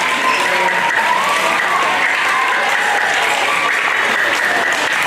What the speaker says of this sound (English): Can we get one more round of applause for our third, fourth, and fifth grade orchestra?